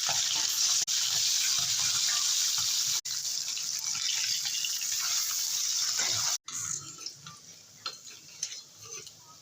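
Small freshwater fish such as khalse and puti sizzle steadily in hot oil, a dense continuous hiss that breaks briefly, then thins into scattered, uneven crackles and pops with no talking.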